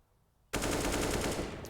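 Sustained burst of automatic rifle fire shooting through a wall on the Inferno map in Counter-Strike, kicking in abruptly after a quiet moment and staying loud and dense to the end, with no talk over it.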